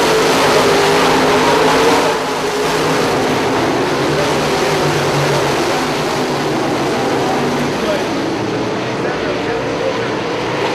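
Dirt late model race cars roar around a dirt track in a steady, loud wash of engine noise, with no single car standing out from the continuous racing din.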